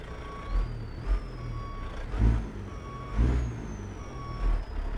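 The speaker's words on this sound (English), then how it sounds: "A good sound of turbo on it." A Peterbilt 389 glider truck in American Truck Simulator: the heavy engine rumbles steadily while a thin, high turbo whistle rises and dips, with soft thumps recurring about once a second.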